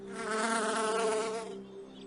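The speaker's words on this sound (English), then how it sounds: "And a bee sips from a drop of dew." A bee buzzes steadily and close up with a strong harmonic drone, fading toward the end.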